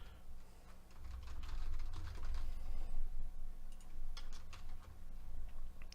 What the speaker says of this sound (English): I'm already typing it.